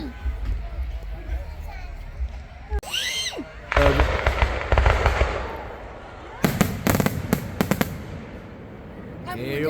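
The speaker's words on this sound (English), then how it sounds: "Hurry up, fireworks." Backyard fireworks in Virginia burst in loud, crackling volleys, with a sharp bang followed by rapid strings of firecracker pops, close and intense, while people talk over the noise.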